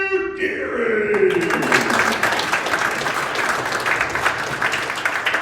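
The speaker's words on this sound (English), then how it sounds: "Big round of applause for Mr. AC." An audience bursts into sustained applause, dense steady clapping that swells and holds for several seconds after a musical flourish fades, loud and close with no talking over it.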